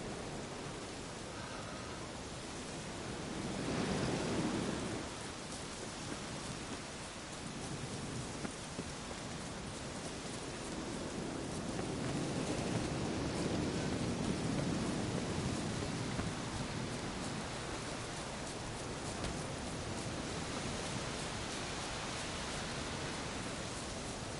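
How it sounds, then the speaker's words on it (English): Steady, moderately loud rain falls in the video game The Witcher 3, a continuous wash of hiss and patter that swells around the middle, with no distinct thunder standing out. "Looks like rain."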